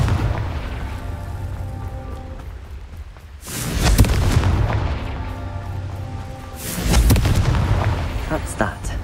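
Two heavy, booming blasts from the Confringo fire spell in the video game Hogwarts Legacy, each a loud burst with a rumbling tail, set against a low ambient game background.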